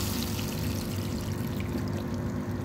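Water gushes hard from a tightened tap into a guppy breeding tank, a steady loud rushing pour with no breaks and no voices.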